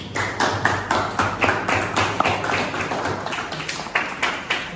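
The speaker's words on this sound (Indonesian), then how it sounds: "Bila beri tepuk tangan untuk kelompok 1." Classmates in a teacher-training classroom lesson give a short round of clapping for a student group, a busy, slightly uneven patter of hand claps carrying on for several seconds with no speech over it.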